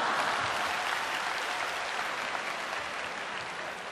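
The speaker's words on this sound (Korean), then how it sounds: "왜 박수 칩니까?" A lecture audience breaks into applause, a dense steady clapping from many hands that holds for several seconds and slowly eases off.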